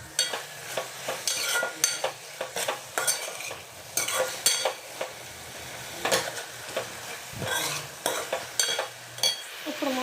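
Garlic stirred into tomato chutney cooking in a pan, a spoon clattering and scraping in repeated strokes over a light sizzle, close and moderately loud.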